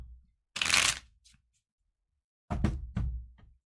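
A tarot card is drawn from a deck, giving a quick papery shuffle and snap followed by a cluster of soft card taps and flicks, close in a quiet room.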